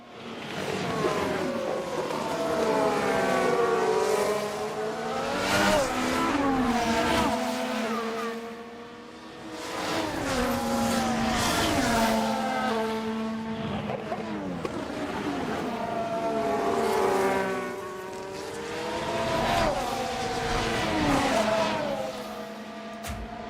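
Formula 1 cars circling the Saudi Arabia street track in F1 Manager 24, engines whining in waves as cars rise and fade past one after another, with several overlapping pitches sweeping up and down.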